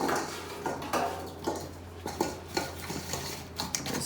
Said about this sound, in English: I'm just going to transfer it into a smaller bowl.